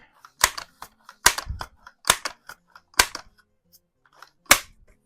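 A Crosman Vapor Max air rifle firing, heard as several sharp, close cracks spaced about a second apart, mixed with lighter clicks and mechanical handling noises between shots.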